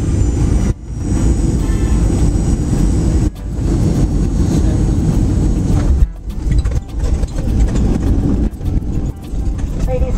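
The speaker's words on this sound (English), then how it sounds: "Plane touches down on the runway." An airplane touches down on the runway at Roatan, a loud, continuous low rumble and roar that stays heavy throughout, with a few brief dips and jolts as the wheels meet the ground.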